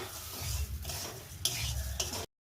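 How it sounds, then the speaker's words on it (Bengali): Rice stirs and fries in a pan for pulao, a short burst of sizzling with rustling scrapes and two sharp clinks of the spoon on the pan before it cuts off abruptly. "অর্ধেক চালটা দিয়ে দিলাম দিয়ে এবার আমি ভালো করে নাড়াচাড়া করে ভেজে নেব"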